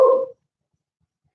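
A single short dog bark, close and loud, cut off sharply and followed by silence.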